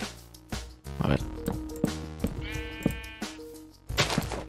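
Sheep in Minecraft bleat repeatedly in short wavering calls, several overlapping near and loud, with someone talking in between them.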